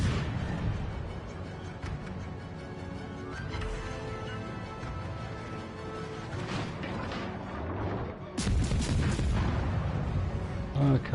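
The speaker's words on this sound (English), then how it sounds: "we'll give him a good broadside now" Warship broadside gunfire in World of Warships Legends, deep booming cannon blasts over a rumbling battle mix, with a heavier loud burst near the end.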